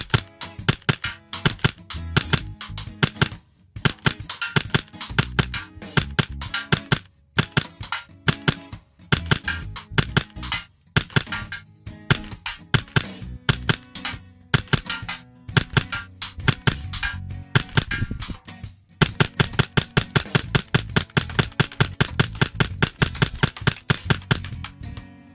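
A Hi-Capa 4.3 airsoft pistol fires at a target, producing many sharp, close snaps in uneven bursts with short pauses, growing into a fast, steady string of shots toward the end.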